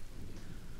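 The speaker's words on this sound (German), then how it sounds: "So, jetzt regnet's." Rain falls in the survival video game The Forest, a steady, dense hiss of downpour with a low rumbling undertone, continuous and fairly loud with no voices over it.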